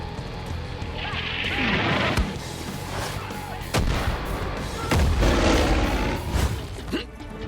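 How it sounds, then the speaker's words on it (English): Far Cry 5 combat with an air bombing run, dense bursts of gunfire and booming explosions crashing one after another amid a roaring, chaotic battle backdrop. "I'm going to mark this target for Nick's flyby bombing run"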